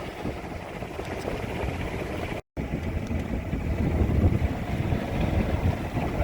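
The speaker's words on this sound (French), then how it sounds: "Je suis juste un petit peu en appui au moteur et je me dirige vers la sortie." A sailboat motors out of a harbour under engine, a steady low rumble mixed with strong wind buffeting and water noise, continuous throughout apart from a brief dropout.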